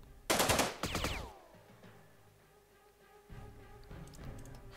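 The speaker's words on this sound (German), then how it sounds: "Denke, hier wäre auch noch mal ein Feuerstoß angebracht." Automatic weapon fire in the video game Jagged Alliance 2: two loud, sharp bursts of rapid shots in quick succession, followed by a quieter lull and fainter game sounds at the end.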